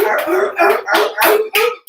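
A voice imitates a leopard seal, giving five short, barking calls in quick succession, close and loud with brief gaps between them.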